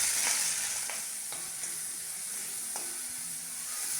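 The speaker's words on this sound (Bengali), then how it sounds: "পেঁয়াজ রসুনটা ভাজা হয়ে গেছে, চিংড়ি মাছটা দিয়ে দেবো, একটু করে হলুদ দেবো।" Shrimp frying in a pan with onion, garlic, dried chilli and turmeric, a steady close sizzle punctuated by a few light spatula taps and scrapes, with no talk.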